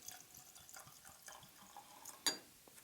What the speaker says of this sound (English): So let's get a pour.